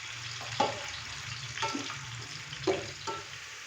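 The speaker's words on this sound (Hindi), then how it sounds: "अभी हम प्याज को अच्छे से फ्राई करेंगे गोल्डन ब्राउन होने तक।" Steady sizzle of onions frying in ghee with a low rumble underneath, broken by a few soft stirring scrapes spaced about a second apart.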